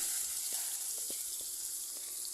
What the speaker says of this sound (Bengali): এখানে আমি কড়াইতে তেল গরম করে নিয়ে দিয়ে দিচ্ছি তার ভেতরে ম্যারিনেট করে রাখা চিকেন কিমাগুলো